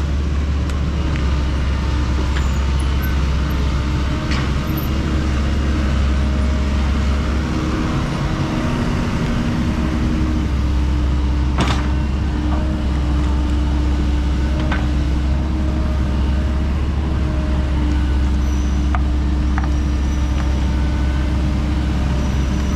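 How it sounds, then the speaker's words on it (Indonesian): Steady roar of congested traffic on Jalan Raya Gabus in Tambun, Bekasi, with cars taking turns one direction at a time past roadside excavation; continuous loud engine rumble and passing vehicles throughout, no talking. "Jalan Raya Gabus macet dikarenakan mobil hanya bisa bergantian ke satu arah."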